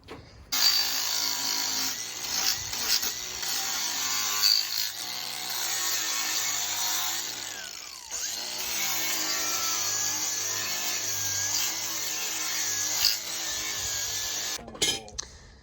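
A power grinder cuts and flattens a steel Barricade HD bumper on a Jeep JL, a loud sustained whine with shifting pitch that cuts out briefly midway and stops near the end.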